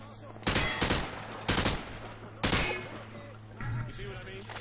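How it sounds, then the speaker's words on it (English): Sprayed gunfire in Call of Duty: Modern Warfare 2, three or four loud separate bursts over a steady background hum, with players talking in between. "He sprayed bullets all over the damn place."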